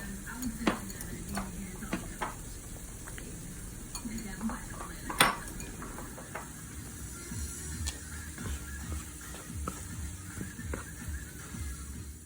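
Vegetables for shrimp tacos cook in a pan for a long while until soft, giving a steady low sizzle with occasional utensil scrapes and clinks against the pan, fairly close and without speech.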